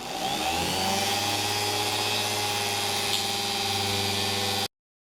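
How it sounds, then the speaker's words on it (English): A Dremel rotary tool whines at high, steady speed while cutting a thin line into a walnut gunstock, the loud, close buzz holding almost unchanged before cutting off abruptly. "using the Dremel tool, I'm going to get in there and make a line, a thin cut"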